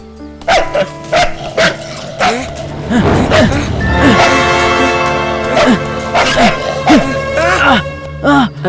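A dog barking repeatedly in a Hindi-language movie scene, sharp close yelps and barks in an irregular rhythm, some rising into whimpering cries, mixed with people shouting and talking excitedly over it.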